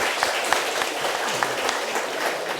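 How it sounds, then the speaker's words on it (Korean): Congregation applauding at a church service appointing new deacons, moderate clapping from a sizable gathering that holds evenly, with a few louder claps near the front. "축하의 박수 보내겠습니다"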